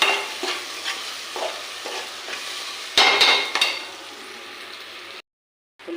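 Onions frying in a pan, with a steady sizzle and repeated spatula stirs, one louder scraping burst midway, then a brief drop to silence near the end; no talk.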